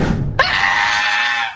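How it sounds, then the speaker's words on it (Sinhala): Children let out a loud, sustained, high-pitched scream that starts abruptly and holds steady at close range, drowning out everything else. "මොකද ළමයි මේ කෑ ගහන්නේ?"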